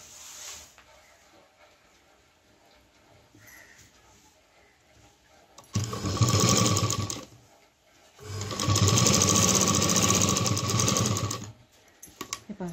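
A household sewing machine stitches the belt handle of a homemade tiffin lunch bag, running in two loud, steady bursts of a few seconds each, separated by quiet pauses.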